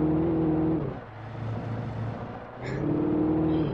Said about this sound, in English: The truck sounds so bad.